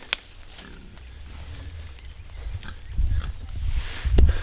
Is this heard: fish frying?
no